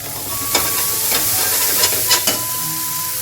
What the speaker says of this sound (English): Next I'm going to saute the broccoli.